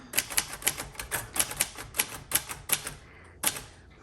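Rapid, crisp clacking of 1941 Royal Quiet Deluxe manual typewriter keys in an uneven rhythm, about a dozen strikes with a brief pause before a final few.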